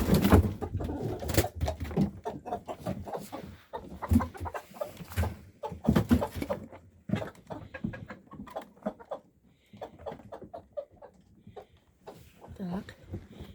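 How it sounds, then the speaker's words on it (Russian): Rooster and hens in a snowy chicken coop during feeding with apples, clucking and cooing close by in steady bursts, while a person talks over the birds. "Большой петух зовет курочек, вот этот"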